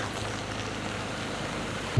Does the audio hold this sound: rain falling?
yes